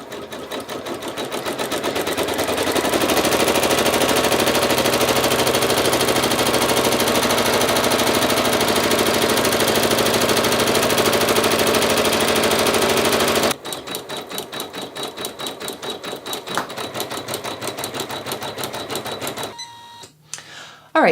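An embroidery machine stitches the outline of a 7 with a loud, fast, steady mechanical chatter. Partway through it shifts to a sharper, evenly pulsing needle rhythm, then slows and stops.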